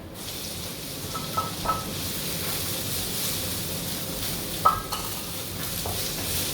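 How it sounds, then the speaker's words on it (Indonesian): Chopped onions sizzle and hiss steadily in a hot pan with browned garlic, with a few stirring scrapes and clinks of a utensil against the pan, close and continuous, no voices. "Sekarang saya masukkan bawang bombaynya."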